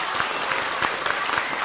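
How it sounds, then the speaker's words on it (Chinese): A theatre audience at a Chinese crosstalk comedy show claps in a dense, steady burst of applause that fills the short clip at close range. "您先甭鼓掌，也别起哄啊"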